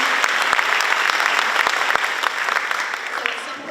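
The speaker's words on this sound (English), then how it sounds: "so we should give them a round of applause." Steady applause from an audience at an annual awards night, honoring the baseball and softball teams, with dense clapping filling the room and gradually thinning toward the end, sharp individual claps popping out.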